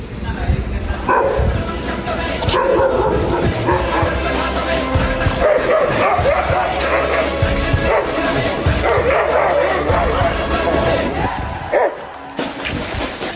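A dog out on a walk in the rain barks, yips and whimpers in repeated bursts near the microphone while someone talks over it almost throughout.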